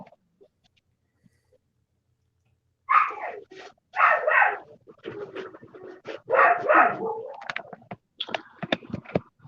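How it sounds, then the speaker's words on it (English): Several dogs bark in bursts from about three seconds on, fairly close and loud, with yips and short barks clustered together toward the end; the opening stretch is near silence. "I know about those stupid dogs"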